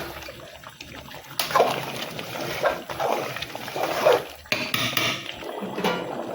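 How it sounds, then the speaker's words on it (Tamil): Mushroom biryani boiling in a pot gives a steady bubbling, sputtering wash with occasional clinks, moderately close and continuous throughout. "பிரியாணி நல்லா கொதிக்குது."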